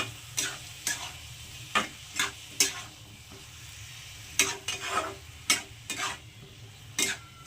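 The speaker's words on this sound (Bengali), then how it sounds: "এবার আমি এটাকে সব একটু এইভাবে মিশিয়ে দেবো সব কিছুর সঙ্গে" Masoor lentils and bottle gourd being stirred in a pan, with a spoon scraping and tapping in irregular bursts over a faint sizzle, close up and without speech.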